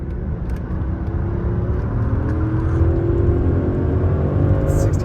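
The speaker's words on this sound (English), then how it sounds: "All right, full throttle highway acceleration here." A 2005 Mercedes S500 4Matic accelerates at full throttle on the highway, its engine droning steadily with a rising whine as speed builds, heard from inside the cabin with constant road and wind roar beneath.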